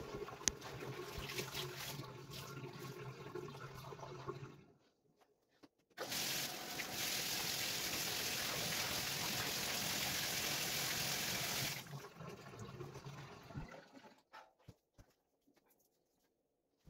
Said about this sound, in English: scrubbing the inside, and then I'll rinse it well